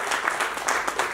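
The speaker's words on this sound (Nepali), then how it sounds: "मान्यज्यूहरूले ताली बजाएर स्वागत गरिदिनु" A hall of assembled members bursts into dense, sustained applause approving a decision to seal the border, the clapping even and close with no voices over it.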